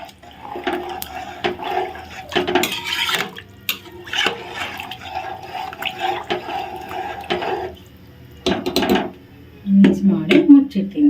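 Water poured over rice in a cooking pot and stirred in for chicken biryani, with splashing, scraping and metal clatter in uneven bursts and a voice speaking between them.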